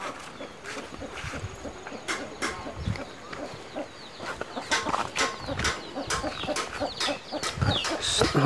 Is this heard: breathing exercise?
no